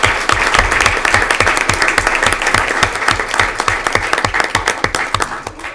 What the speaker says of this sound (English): We want to give you guys a big round of applause for the great work you do to help our school.